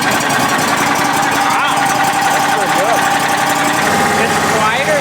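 A gas-powered EFI engine on a machine runs at a steady idle, loud and close, with a continuous hum and mechanical rattle while people talk over it.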